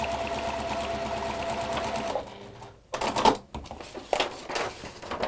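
A sewing machine top stitching fabric runs in a steady, fast mechanical whir, then stops and gives a few short bursts of stitching, close and clear with no talk.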